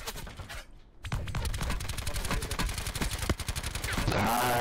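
Rapid bursts of automatic gunfire in the Call of Duty Blackout battle royale game, dense rattling shots in sustained volleys after a brief pause, loud and close.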